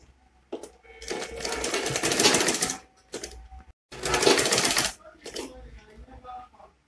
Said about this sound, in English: I'm going to sew it like this down to the other part.